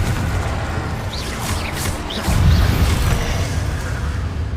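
A Confringo blasting spell in Hogwarts Legacy detonates with a heavy boom midway, followed by a sustained low rumble inside a goblin mine, after lighter crackling spell sounds.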